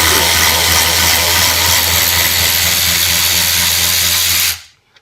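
A 16V cordless long neck ratchet spins out a bolt with a loud, steady motor whir held close for about four and a half seconds, then cuts off abruptly into silence.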